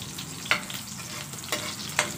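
Crushed garlic sautéing in a pan for a mussel dish, giving off a steady, fairly loud sizzle. Three evenly spaced clinks from a stirring utensil cut through it, and no one talks.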